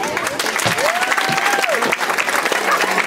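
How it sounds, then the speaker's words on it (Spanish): A crowd at a village fiesta for San Nicolás de Tolentino applauds the town's patron saint, loud, dense clapping with a whistle-like tone and cheering voices rising through it. "pedirles a todos un fuerte aplauso, especialmente para nuestro patrón del pueblo"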